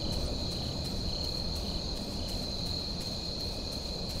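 Crickets chirp steadily in the horror video game The Joy of Creation, a constant high insect drone over a dense, loud rumbling game ambience with no pauses.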